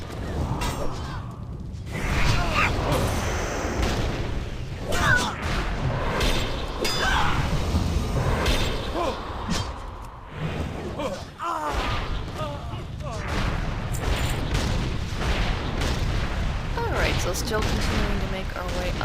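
Explosives blow up Alliance barricades in the video game World of Warcraft, with repeated booming blasts and gunfire-like bursts mixed with whooshes, while a voice talks over the action.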